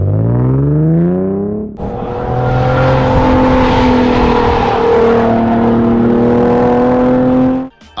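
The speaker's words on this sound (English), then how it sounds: "Insert some clips on what the car sounds like now." A Nissan 370Z fitted with high-flow catalytic converters roars close up, its engine and exhaust holding a loud, sustained rising rev for several seconds after a brief lower drone, then cutting off sharply.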